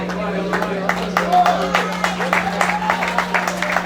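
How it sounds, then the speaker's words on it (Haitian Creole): Audience applause at a Harlem festival of culture award nomination, a broad patter of clapping with a steady hum underneath and some voices mixed in, fairly loud and continuous throughout. "On applaudit encore une fois, mesdames et messieurs"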